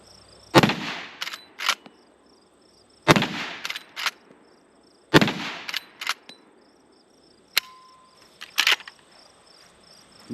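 Four sharp, loud reports from a .454 Casull lever-action rifle, spaced a couple of seconds apart outdoors. Each shot is followed by quick mechanical clicks and clatter, with faint insect chirping in between.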